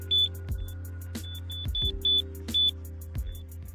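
Electronic bite alarms on carp fishing rod supports emit a series of short, high, irregularly spaced beeps at varying volume while being set up, alone without speech.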